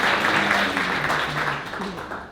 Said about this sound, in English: How about a round of applause for your waitstaff working hard for you tonight?